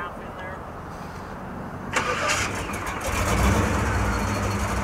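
A 1952 Thames classic car with a 327 engine cranks and starts up, then settles into a rumbling idle, with talk heard before it starts.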